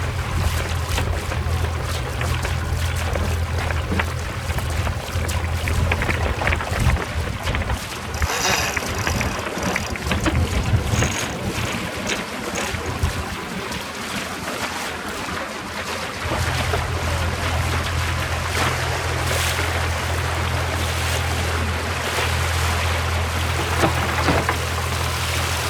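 A sailboat tacks on Moreton Bay, with steady water rush and wind noise around the hull, a low continuous drone underneath, and a brief quieter stretch mid-passage before the steady wash resumes.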